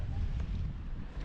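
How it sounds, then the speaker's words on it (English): Wind buffets the microphone on a fishing boat off the Kimberley coast, a steady low rumbling roar that fills the whole moment. "today's a windy one"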